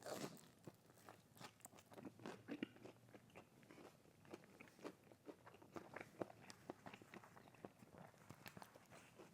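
Little Caesars deep dish pizza with spicy mayo is bitten and chewed close to the mic, with soft, repeated crunches and moist chewing that stay faint throughout.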